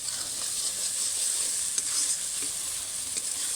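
Spices with fresh cream sizzle steadily in a hot pan with a constant bright hiss, and soft scraping sounds come through as they are stirred.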